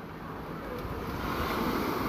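Rough sea waves wash onto a Costa Brava beach at Platja d'Aro as a steady, loud, broadband surf roar building slightly, with wind buffeting and no speech.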